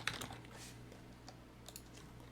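Soft clicks of typing on a computer keyboard, a few scattered keystrokes close by and faint, over a steady low electrical hum.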